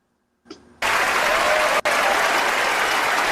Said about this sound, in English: let's praise myself and give myself some applause here.